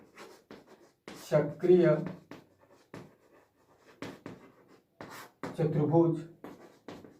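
A pen scratches on paper in a Hindi maths lesson on a cyclic quadrilateral theorem. Soft writing strokes fall in the pauses of a teacher's close, clear speech, which dominates the sound.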